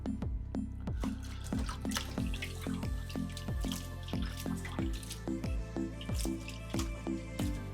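Prawns are washed in water, with steady close sloshing, squishy handling and a rhythmic series of dripping, plopping splashes and no talking.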